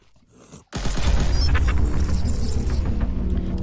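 Rapid gunfire rings out while shooting zombies in an Unreal Engine zombie video game, a loud continuous barrage with booming low end that bursts in after a brief quiet start and holds steady to the end.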